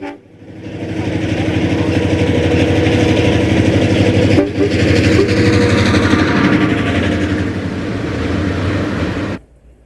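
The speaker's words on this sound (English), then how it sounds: "The FP7 has the honor of pulling the train back to Montgomery." A former Southern FP7 diesel locomotive, built in 1950, hauls a passenger train past at loud, close range. Its engine roars and rattles steadily for most of the passage, then cuts off sharply.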